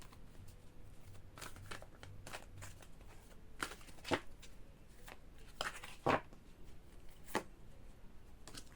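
Tarot cards are shuffled in a quiet setting with scattered, crisp flicks and riffles. Sharper snaps come now and then against a soft background.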